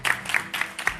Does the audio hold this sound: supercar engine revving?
no